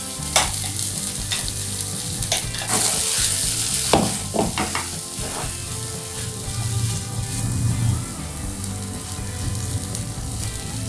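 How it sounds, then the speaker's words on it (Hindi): Potato tikki masala mixed with ground poha and peas cooking dry in a pan, a continuous close sizzle broken by repeated spatula stirs and scrapes, fairly loud and without talk. "इसको पकाकर थोड़ा ड्राई कर लेते हैं।"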